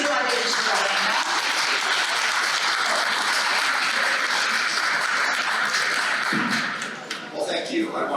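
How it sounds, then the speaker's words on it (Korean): Sustained applause fills a hall as a Korean community audience welcomes Congressman Adam Smith at the Seattle Korean Association's year-end Arirang Night gala, dense and steady before tapering off near the end. "여러분 뜨거운 박수로 맞이해주시기 바랍니다"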